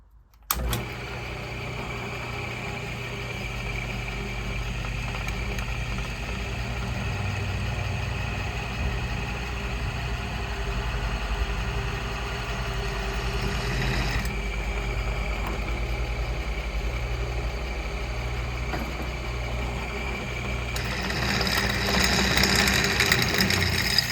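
Power drill boring two holes through a Weber kettle grill leg with a little cutting oil, a steady whirring motor drone running continuously and rising in pitch and load near the end, with no talking.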